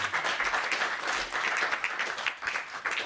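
A crowd applauds through the whole stretch at a talk on blockchain and Bitcoin, with dense, steady clapping from a fairly near audience and no break.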